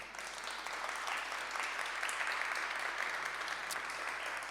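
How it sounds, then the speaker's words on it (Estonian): A ceremony audience at the 2022 integration awards claps for one another: broad, sustained applause from many hands at a steady level, with no voices over it. "tehke naabrile üks suur aplaus"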